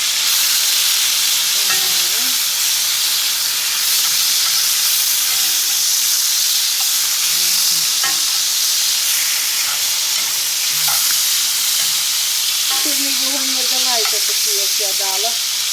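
Food frying and sizzling in a pan on a lowered flame while being turned over and over, a loud continuous hiss with occasional scraping clinks of the utensil, no one speaking.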